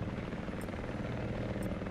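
Steady rotor thrum of a helicopter in the video game Battlefield 4, fairly faint and continuous, with a faint high chirp twice.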